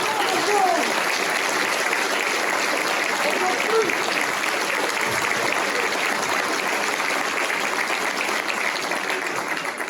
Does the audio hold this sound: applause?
yes